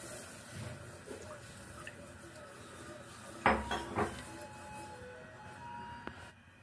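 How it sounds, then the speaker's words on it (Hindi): A spoon stirs sugar syrup in a metal pot, making soft scrapes with a brief cluster of louder clinks and knocks midway and a final light tap. "और इसको हम हिला लेंगे।"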